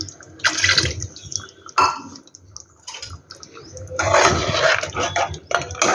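Water is poured into mutton curry in a cooking pot for the gravy, heard as a few separate close splashing bursts with short quiet gaps between them.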